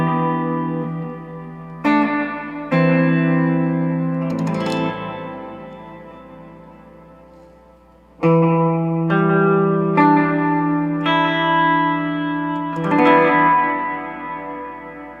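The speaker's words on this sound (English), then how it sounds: "And then I'll dial in the late reflections of the room reverb with Control 1." A Source Audio effects pedal adds room reverb with long late reflections to a series of sustained, distorted electric guitar chords, each struck loudly and left ringing into a lingering wash, with no voices.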